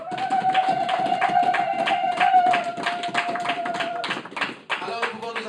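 A church congregation claps in a fast, steady rhythm to acclaim Jesus during a French-language service. The claps sound close and sharp over sustained music and singing, and they thin out near the end.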